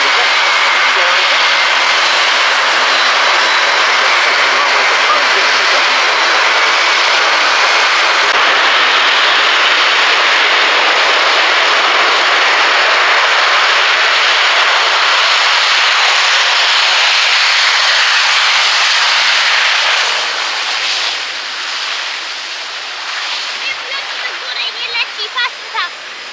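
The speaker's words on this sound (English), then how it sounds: "a Hunter 58A from HHA, as they take to the runway at the midpoint" A Hawker Hunter 58A jet moves along the runway at a RIAT airshow at Fairford, its loud, continuous engine roar and high whine dominating throughout, slowly shifting as it taxis, with faint talk underneath.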